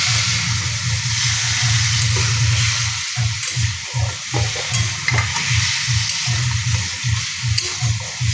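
Potatoes coated in spices fry and sizzle in a pan while being stirred, with a steady hiss and repeated scraping strokes from a spoon, close and continuous.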